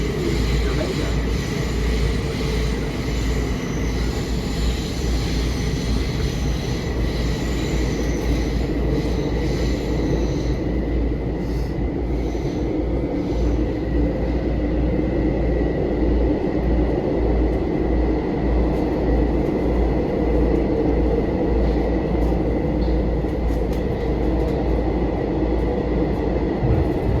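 A commuter train from Grand Central to Ronkonkoma rumbles steadily along the rails, a continuous loud low roar with clattering and a faint high whine throughout.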